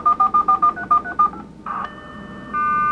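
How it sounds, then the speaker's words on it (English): A computer modem dials a telephone number with a rapid series of about ten crisp touch-tone beeps, then short line tones and a steady handshake tone, loud and alone. "Now it's starting to dial."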